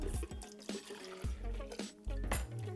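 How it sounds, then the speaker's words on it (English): Milk pours into a plastic shaker cup in several gurgling, splashing bursts with short pauses and clunks between them, close and clear, with no talking. "a little trick to make this go faster is pouring 1 cup of milk into a shaker cup"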